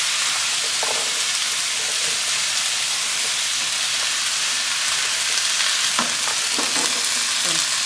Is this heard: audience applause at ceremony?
no